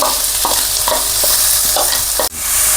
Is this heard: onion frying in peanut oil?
yes